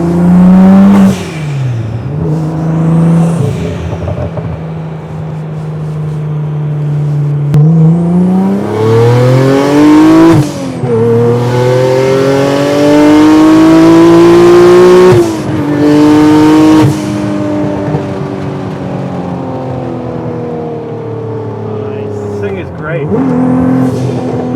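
A loud car engine revs up repeatedly, pitch climbing through gears in long surging pulls, with brief drops between shifts and occasional voices underneath.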